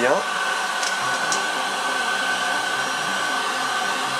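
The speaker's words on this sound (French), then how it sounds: "en faisant chauffer un petit peu la bande" Heat gun warms the glue of edge banding on a panel, a steady loud blowing roar that holds constant throughout with no talk over it.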